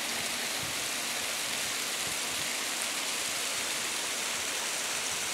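Steady broadband rush of falling water at a waterfall near Rockland Furnace, Pennsylvania, a continuous dense roar with no talk and no breaks, filling the whole stretch at moderate, even loudness.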